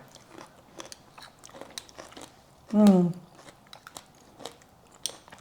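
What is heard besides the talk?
crunching while eating raita with pomegranate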